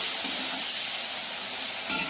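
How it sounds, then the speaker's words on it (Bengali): Hot oil spatters and hisses while wet prawns fry in a pan, a steady close sizzling crackle with one sharper pop near the end and no talking. "ভীষণভাবে তেল ছেটকাচ্ছে, মাছটার মধ্যে যে জলটা লেগেছিল তার জন্য।"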